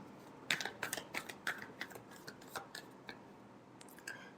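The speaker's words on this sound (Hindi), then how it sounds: "Last shuffle." Tarot cards shuffled in the hands for a Taurus reading, a run of quick, crisp riffling snaps and flicks, close and fairly quiet, with no voice.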